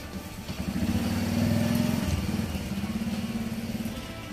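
Motorcycle engine on a road test after a timing chain replacement, a steady mid-pitched running drone that swells slightly midway and holds close and even throughout, with no talk.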